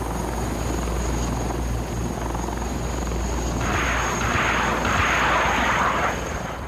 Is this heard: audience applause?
no